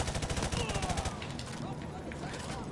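Rapid automatic gunfire in the Modern Warfare 2 campaign, a dense burst of repeated shots with a voice talking over it.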